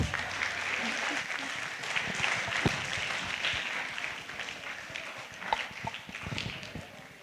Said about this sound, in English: I'd like you to give yourselves and everybody a big round of applause.